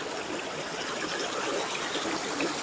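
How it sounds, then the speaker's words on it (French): A mountain torrent in the Dominican Republic rushes in a steady, faint gushing wash of flowing water, heard from a short distance with no talking. "Notre torrent."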